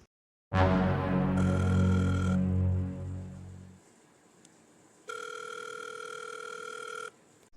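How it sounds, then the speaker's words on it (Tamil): A phone rings with no answer, a long ringing tone with strong overtones, a pause, then a second ringback tone, steady and close with no voices. "என்னடா ரிங் போயிட்டே இருக்கு எடுக்க மாட்டேங்கிறான்"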